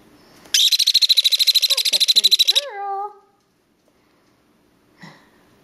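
Jenday conure parrots let out a harsh, rapid, buzzing burst of squawks for about two seconds. A few short, rising whistled calls follow, then a faint chirp after a pause, all fairly close.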